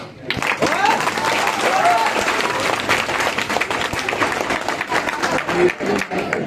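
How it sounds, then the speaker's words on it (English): Students applauding a teacher at a class 10 school farewell, a full round of crowd clapping with scattered cheers and voices, loud and sustained across the hall. "So can we have a round of applause for Imam sir?"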